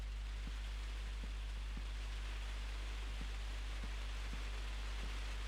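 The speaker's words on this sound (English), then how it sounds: "There's rain, you can hear the outside" Steady rain falls outside, a soft even hiss heard from indoors, with a low constant hum underneath and faint scattered ticks of drops.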